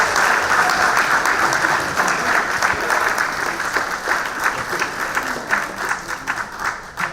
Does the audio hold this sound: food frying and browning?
no